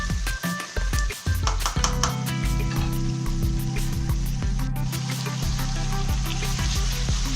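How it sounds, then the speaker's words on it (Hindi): Chicken frying in a karahi for Afghani chicken karahi, a loud, dense, continuous sizzle with crackling pops and occasional stirring scrapes, no voices. "इसको उस वक्त तक मैं फ्राई करूंगी जब तक चिकन का कलर चेंज नहीं हो जाता"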